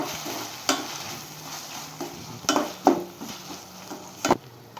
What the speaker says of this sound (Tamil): இஞ்சி பூடு வதனோட தக்காளி போட்டு நல்லா வதக்கிடுவோங்க